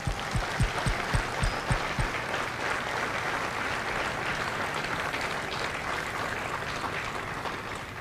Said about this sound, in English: please join me in a round of applause for the families of India Company